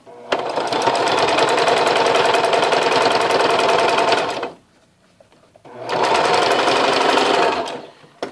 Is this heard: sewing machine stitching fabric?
yes